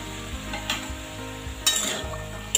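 Bottle gourd and boiled peas are stirred in a pan over a medium gas flame, with soft sizzling under a few sharp spoon scrapes and clinks against the pan, close and fairly quiet.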